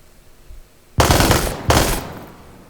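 Machine gun walking fire in Gates of Hell: Ostfront, two loud, sustained bursts separated by a short pause, following a quiet stretch.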